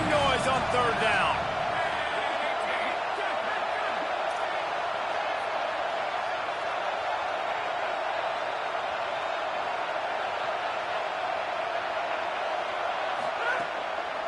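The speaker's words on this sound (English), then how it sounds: "This dog crowd is off the leash, and they are coming after them, bringing noise on 3rd down." Football stadium crowd roaring on third down, a dense, continuous wall of cheering and noise, loud and distant-sounding, with speech mixed in at the start.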